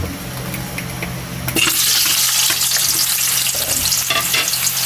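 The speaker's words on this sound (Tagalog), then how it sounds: "Papainit tayo mantika, Kylie. Ipapride lang natin to." Potatoes dropped into hot oil for a Filipino adobong tuna dish: after a quiet moment, a sudden loud, close sizzle of frying bursts up and continues steadily.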